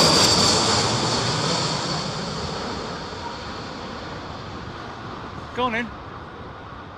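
Inside a landing airliner at Heathrow during Storm Isha, a loud, steady engine and wind roar slowly fades, and a voice briefly speaks near the end.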